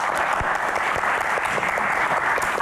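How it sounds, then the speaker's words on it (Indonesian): An audience applauds Axel Christian at an event, a dense, steady burst of many hands clapping that holds at a loud, even level throughout. "Tepuk tangan untuk Axel"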